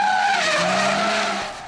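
A race car drifting with a pendulum swing of the steering, its oversized high-pressure tires skidding in a loud, continuous screech with a wavering pitch as the engine roars underneath, fading slightly at the end.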